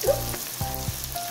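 Vegetables, paste and spices sautéing in a pan for a veg dum biryani, with a soft continuous sizzle and a few brief stirring knocks, close by and without talking.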